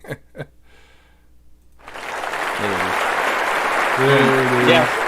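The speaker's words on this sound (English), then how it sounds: "we're going to need an applause sound." Applause sound effect dropped into a fantasy football podcast, rising after a moment of silence into a steady, loud wash of clapping and cheering that fills the rest of the clip, with a few vocal whoops near the end.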